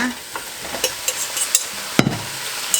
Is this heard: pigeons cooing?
no